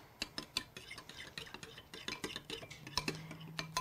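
Homemade cocktail sauce stirred in a small bowl, a quick run of light clinks and scrapes from a spoon, close and quiet.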